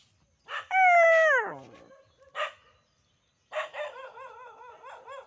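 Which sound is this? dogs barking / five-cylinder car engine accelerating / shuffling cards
dogs barking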